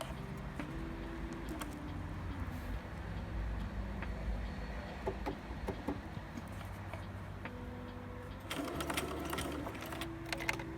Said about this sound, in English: I'm going to sew around the 2 arm pieces with the bad side facing outwards